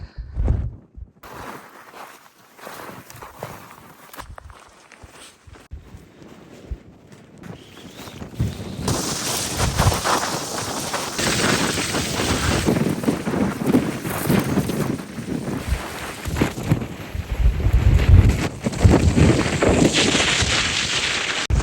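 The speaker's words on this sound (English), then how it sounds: "This wind is fucking nuts!" Strong wind on a mountain peak, gusting and roaring across the microphone in a broad continuous rush that builds from quieter buffeting to a loud, sustained blast, with no talk.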